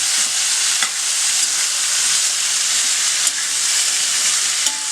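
Coconut masala simmering with tamarind water in a pan gives off a steady, close sizzling hiss, with a few faint clicks of stirring and no voices.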